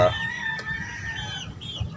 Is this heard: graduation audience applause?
no